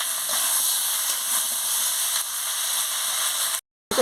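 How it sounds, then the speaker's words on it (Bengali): Ridge gourd, papaya, potato and carrot sauté in spices in a pan with a steady, close hissing sizzle that cuts off into brief silence near the end. "এই যে ঝিঙ্গা, পেঁপে, আলু, গাজর সব দিয়ে দিচ্ছি মশলার সঙ্গে, দিয়ে ভালো করে কষিয়ে নিচ্ছি।"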